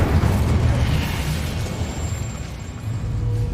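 Confringo fire spell explosions in Hogwarts Legacy: a dense, booming fiery burst with a crackling rumble that slowly decays, followed by another swell of low roaring blasts.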